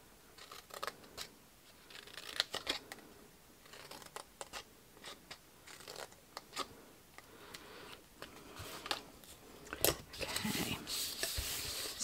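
Scissors cutting through card while a lip balm box is being made, giving scattered, faint snips and crinkly rustles at an irregular pace close by.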